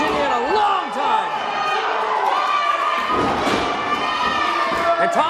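A wrestling crowd cheers and shouts in Hinton, West Virginia, a loud and steady roar of voices and whoops with a commentator talking over it.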